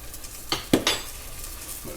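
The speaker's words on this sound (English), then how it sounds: "Mix that up, and then you'll start to notice your base is going to get a little bit thick" Chili powder, cumin and paprika stirred into a nacho base in a bowl: a few distinct clinks and scrapes of a utensil against the bowl over a low steady background, with no voices.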